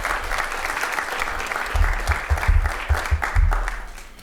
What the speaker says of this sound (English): give a round of applause to the speakers